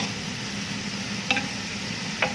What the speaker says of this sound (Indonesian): Sekarang kita lagi menggoreng bawang merah.